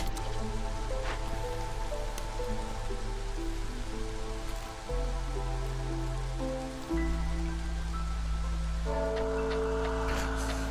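Rain from a rain engine in the strategy game Against the Storm, a steady hiss of rainfall and drips layered over sustained musical tones, continuous and fairly loud throughout with no talking.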